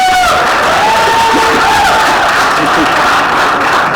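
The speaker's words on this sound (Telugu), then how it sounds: "ఒక్కసారి అందరూ కూడా క్లాప్స్ కొట్టండి" An audience applauding at a Telugu movie pre-release event: loud, dense, sustained clapping from a large crowd, with faint cheers mixed in.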